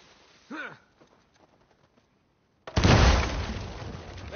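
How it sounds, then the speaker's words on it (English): A dynamite blast in the video game Uncharted 4 erupts suddenly after near-quiet, a loud, close burst that keeps roaring and rumbling for nearly two seconds, following a brief earlier thud. "Hopefully we just blend in with the other explosions."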